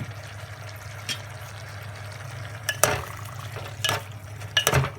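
Soft sizzling and stirring in a pan as eggs fry, with a few light clinks and scrapes of utensils, no voices.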